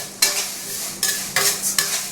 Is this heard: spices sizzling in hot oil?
yes